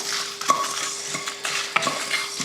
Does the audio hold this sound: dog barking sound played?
no